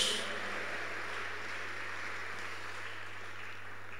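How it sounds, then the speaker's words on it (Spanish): A church congregation applauds in a sustained, even patter that sounds somewhat distant and soft, with a low steady hum underneath and no voices. "Si trajo las manos, dele un aplauso."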